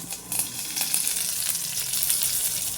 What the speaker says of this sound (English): Yes, it was frying well.